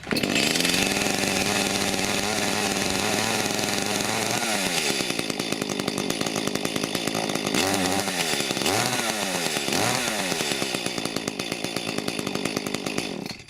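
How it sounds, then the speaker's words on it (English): A chainsaw engine is pulled into life and runs, a loud, continuous buzzing whine close by that steadies for several seconds, then dips and revs in a few quick surges near the end. "hints on starting a chainsaw"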